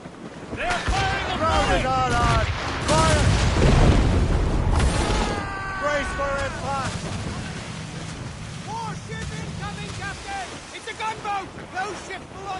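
Ship cannons boom during a naval battle in Assassin's Creed Rogue Remastered, heavy low rumbling blasts over wind and ocean waves, with shouting crew voices layered loudly on top throughout.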